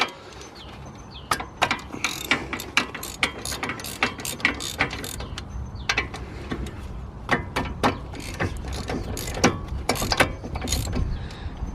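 A ratchet cranks out the two 18mm caliper bracket bolts on a BMW hub, making close, rapid runs of loud clicks in repeated strokes with short pauses between them.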